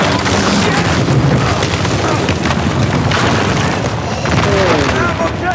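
Dense gunfire and explosions in the video game Uncharted 4 fill the scene with continuous loud booms and bursts, while voices talk over the action.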